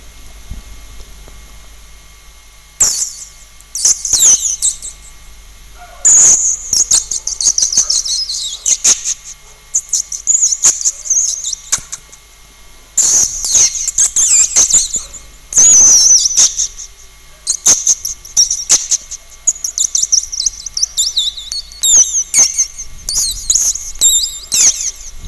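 A man imitates the songs of small garden birds, whistling bright, high chirps and trills in repeated bursts with short pauses between them, close and loud against a quiet background.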